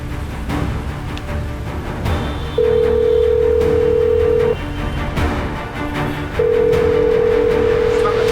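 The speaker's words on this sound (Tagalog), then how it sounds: "kailangan natin tawagan si Totoy" Telephone call being placed in a Filipino TV drama: a steady electronic tone sounds twice for about two seconds each, separated by a quieter gap, loud and close over a low room hum.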